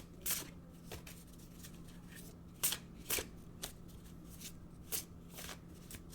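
Oracle cards being shuffled by hand in a quiet room, a series of crisp riffling bursts spaced irregularly, fairly soft and close with no talking.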